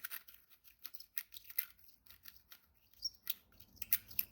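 A case deburring tool turns inside a .308 brass cartridge case during rifle reloading, giving a string of faint, thin, close squeaks and scrapes in short irregular bursts, with no talking.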